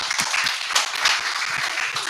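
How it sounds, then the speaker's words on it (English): Audience applause for a presenter at an automotive launch event, a steady crowd of clapping hands sustained at even loudness throughout, with no speech over it. "Let's give him a round of applause."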